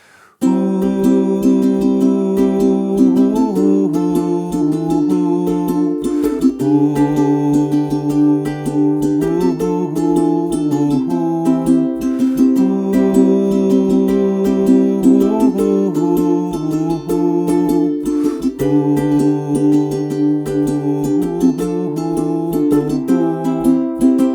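Strummed ukulele chords accompany a voice singing a melody, steady and close throughout, with chord changes every few seconds.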